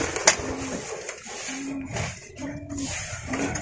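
Soft, low coos from a bandangan pigeon repeat about four times in a steady rhythm, close by, over faint background hiss and a brief click near the start.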